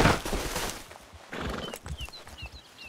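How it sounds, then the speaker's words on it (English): Horses in the Western video game Red Dead Redemption 2 neigh and whinny at close range over thudding hoofbeats, with a few sharp bird chirps rising late in the short stretch. "The horses! Damn horses!"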